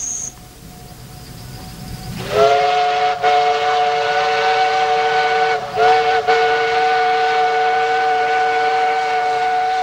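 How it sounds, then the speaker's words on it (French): A steam locomotive whistle blows in the Amazon rainforest about 800 km southwest of Manaus. It bursts in loud and close after a quiet start, then holds as a sustained, harmonically rich tone with brief dips. "d'insolites coups de sifflet déchirent le silence de la forêt tropicale"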